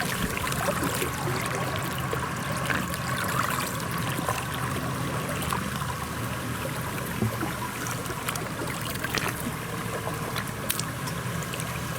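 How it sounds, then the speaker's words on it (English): Water flowing in a mountain stream in the Cederberg, a continuous close rushing and trickling that runs steadily throughout with no voices. "You can hear the water."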